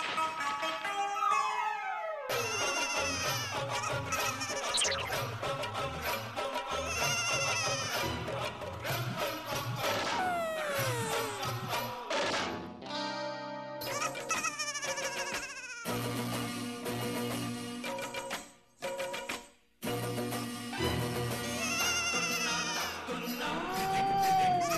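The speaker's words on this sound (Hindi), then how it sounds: "बिल्ली चींटी सब कहाँ से आ गए?" A cat meows several times over a busy background of music and sound effects in a TV comedy episode, the cries rising and falling in pitch and partly masked by the mix.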